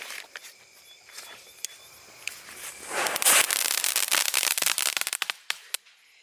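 A small Kit Kat Diwali firecracker fizzes and hisses on the ground, then erupts into a dense run of sharp crackling pops that thin out into a few scattered snaps.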